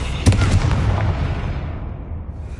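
A Confringo blasting spell detonates in the Hogwarts Legacy video game during a mine exploration, a sharp heavy boom with crackling debris that rolls into a long fading rumble.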